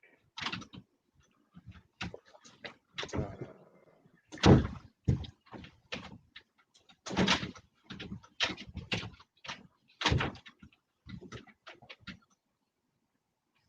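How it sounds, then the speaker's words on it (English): A door is handled and slammed repeatedly indoors, a series of sharp bangs, rattles and knocks in irregular bursts with quiet gaps, loud and close, with no talking. "leave the fucking door alone"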